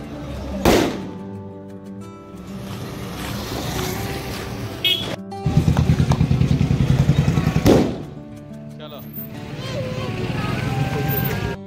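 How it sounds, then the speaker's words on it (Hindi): An aloo bomb firecracker goes off with a sharp, loud bang during Diwali street celebrations, followed by a sputtering rumble and a second blast, with people talking throughout. "हम अभी बम फोड़ने जा रहे हैं, आलू बम।"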